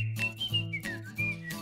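A tuneful whistle carries a wavering melody over a steady backing jingle of music, with no talking.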